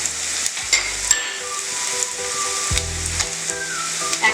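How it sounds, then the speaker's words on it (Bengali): Crushed garlic and ground spice paste hit hot oil in a pan for a Bengali pui shak dish with fish head, giving a steady bright sizzle throughout, with a few louder bursts and scraping stirs, close and alone without speech. "এর মধ্যে আমি দিয়ে দেবো রসুন থেতো করে রাখা সেইটা। এটার মধ্যে আমি মশলা বাটাটা দিয়ে দেবো।"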